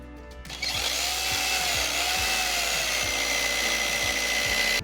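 A power drill whirs steadily and close, grinding continuously through a wall with a sustained high-pitched whine.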